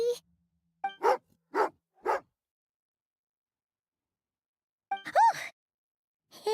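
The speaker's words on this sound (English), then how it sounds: "Oh, angry doggy." A dog named Tagarin in the video game Genshin Impact gives short throaty vocal bursts, three quick ones, then a pause and a longer groan-like growl, close and alone.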